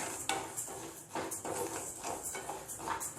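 Moong dal roasts dry in a pan while a metal spoon scrapes and taps against it in quick, regular strokes, faint and close, with a soft rustle of grains between the clinks.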